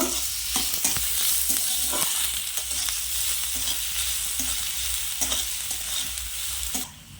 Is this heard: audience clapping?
no